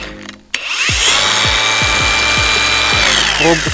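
An angle grinder fitted with a P40 flap disc whirs up sharply to full speed, then grinds against a rusty steel channel in a run of rough, repeated strokes under a high, steady whine.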